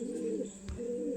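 Pigeons cooing close by, a soft, low, continuous warbling coo with a brief bump of handling noise in the middle and no talk.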